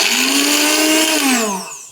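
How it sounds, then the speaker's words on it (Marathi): A mixer grinder whirs loudly and close as it coarsely grinds green chillies, garlic and cumin without water, a steady high whine that slows and fades in the final half second. "आता हे खलबत्त्यामध्ये कुटून घेतलं तरी चालेल, मी मिक्सरला वाटून घेते"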